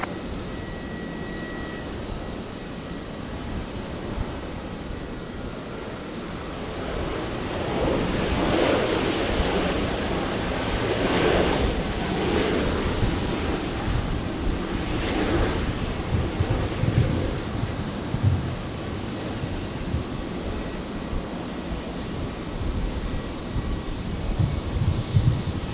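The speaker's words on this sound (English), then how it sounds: "so we've got Jetstar 931 just about to touch down. The 320 coming in from Cairns." A Jetstar Airbus A320 arriving from Cairns touches down on Brisbane's runway 19 left, heard as a broad, steady roar with wind buffeting that swells in the middle and holds at a distance, with no talking.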